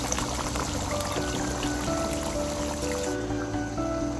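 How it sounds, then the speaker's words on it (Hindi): About a cup of water runs into a pot of beef biryani cooking on a stove, a continuous close pouring and trickling stream that changes slightly partway through, with no voices over it. "पानी हमने यहाँ पे ऐड कर दिया"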